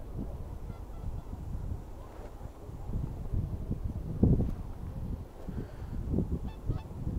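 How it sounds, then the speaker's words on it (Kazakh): Geese honking as they fly overhead on a windy day of first snow in the Kostanay countryside: scattered distant honks over heavy wind buffeting the microphone. "Қаздар жыл жаққа ұшып кетіп бардыр."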